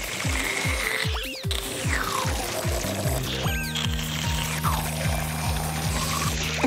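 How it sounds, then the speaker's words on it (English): Water pouring in a cartoon from True and the Rainbow Kingdom, a continuous splashing pour mixed with bubbly, bouncing effect tones and no speech. "that's a lot of water, Squashy"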